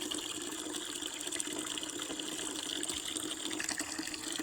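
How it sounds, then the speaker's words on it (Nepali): Tap water runs steadily into a container, a constant close hiss and gush with no break and no talk over it. "पानी भरिँदैछ"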